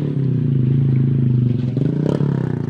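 A manual car's engine during a driving lesson, with a steady close-up idle rumble and a brief rough burst near the end as it is restarted with the starter.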